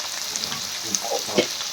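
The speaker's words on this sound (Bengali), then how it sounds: "দিয়ে আমরা একটু কাঁচা আলুগুলোকে একটু নাড়াচাড়া করে আমরা ভেজে নেব" Raw potato pieces fry in hot oil with salt and turmeric, a steady close sizzle with light stirring scrapes.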